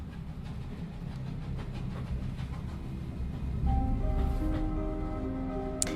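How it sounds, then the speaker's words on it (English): Train rolling along rails in the puzzle game The Room 3, a steady low rumble of the carriage with faint rhythmic clatter and some tonal hum rising partway through, continuous and fairly close. "now it looks like we are on a train heading somewhere new"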